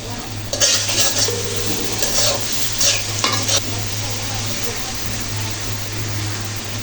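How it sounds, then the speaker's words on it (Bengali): Spices stir-fried in a pan for a fish curry with bottle gourd, with a steady sizzle under a utensil scraping and clinking against the pan in short bursts, then a quieter sizzle continuing alone. "তো মশলাগুলো কিছু সময় নিয়ে কষে নিতে হবে"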